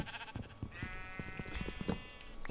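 Sheep bleating in Minecraft, a wavering, nasal cry held for about a second over the clatter of game sounds, close and fairly loud.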